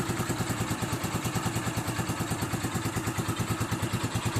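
A cold motorcycle engine idles without choke near 1000 rpm, a close, evenly pulsing thump-thump beat that repeats steadily throughout.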